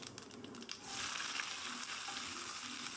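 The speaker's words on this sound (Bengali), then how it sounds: "তারপর আমি পেঁয়াজটাকে দিয়ে দেবো।" Onion hits hot oil already tempered with dried red chilli, bay leaf and five-spice, bursting into a loud, steady sizzle after a few quiet clinks of the pan, with no talking.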